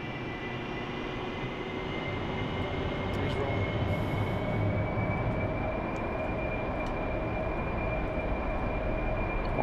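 AV-8B Harrier jet aircraft rolling for takeoff, a loud, steady jet roar with a rising whine that holds throughout without a break.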